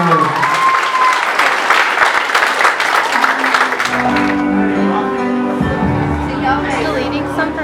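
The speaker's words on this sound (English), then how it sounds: "Ladies and gentlemen, how about a round of applause for Megan and her grandfather," Audience applause breaking out loudly with dense, rapid clapping for about four seconds, then giving way to a voice and murmuring as the clapping fades out.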